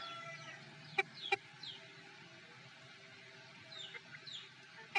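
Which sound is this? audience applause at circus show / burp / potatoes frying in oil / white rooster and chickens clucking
white rooster and chickens clucking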